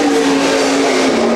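A 360 sprint car at a state title heat races a timed lap, its engine holding a loud, steady high-pitched roar close by for the whole moment with no talk over it.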